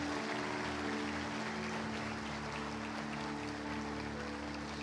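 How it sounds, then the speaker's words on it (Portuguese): A church congregation applauds for Jesus in a steady, faint, distant wash of clapping, a continuous even patter across the room with no break. "dê uma salva de palmas a Jesus, aleluia"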